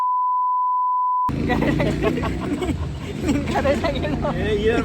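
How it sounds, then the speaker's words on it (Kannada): A steady censor beep tone plays alone for just over a second, then cuts to a lively crowd of overlapping voices and chatter at a prank-show shoot. "ಬೀಪ್ ಹಾಕೋತಾರಲ್ಲ"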